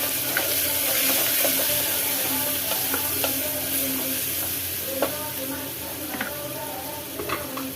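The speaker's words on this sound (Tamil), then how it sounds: "இப்போ இதையும் சேர்த்து வதக்கிக்கலாம்." Continuous sizzle of onions sautéing with turmeric in a pan, with intermittent clinks and scrapes of stirring, steady and close, with no voices over it.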